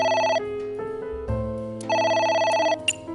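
A telephone rings in the video game AI: The Somnium Files, its loud electronic tone pulsing in repeated bursts with brief gaps between them and no voices over it.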